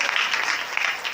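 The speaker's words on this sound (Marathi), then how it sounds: "टाळी वाजवा एकदा गुरुजी." A kirtan audience claps in a brief burst of rhythmic applause, loud and close, with no talking over it.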